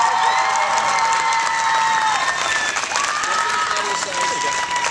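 An audience at a live stage show claps and cheers as a band is welcomed, dense sustained applause with bright sung or whistled tones and voices mixed through it, loud and continuous.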